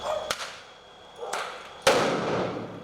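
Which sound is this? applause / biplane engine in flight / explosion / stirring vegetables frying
explosion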